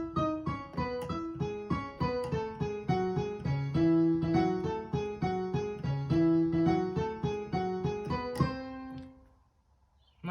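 Right-hand piano melody from a theme, played alone as a clear sequence of struck notes in a steady rhythm, close and moderately loud, fading into near silence at the end.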